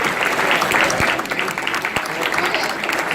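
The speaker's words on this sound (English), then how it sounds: "big round of applause for yourselves" Applause from a convention crowd at a fan-convention cider festival's closing ceremony, steady clapping filling the room for about three seconds with cheering voices mixed in and a couple of sharp thumps.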